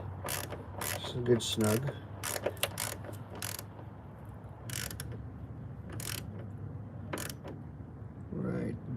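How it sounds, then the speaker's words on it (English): A 10 millimeter ratchet wrench tightens a bolt while a speed sensor is being replaced, giving a series of sharp close clicks in quick bursts with pauses between, and someone speaks briefly over the clicking. "Put the 10 millimeter on it. Just tighten it down."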